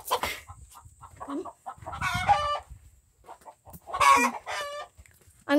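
Chickens on a farm cluck and squawk nearby in several bursts separated by short pauses, a few of them sharp and loud, while faint rustling fills the gaps.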